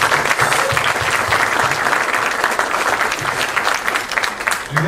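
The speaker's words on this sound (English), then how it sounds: "a big round of applause for Adam" Sustained crowd applause fills the space, steady and dense throughout, with a few faint voices mixed in.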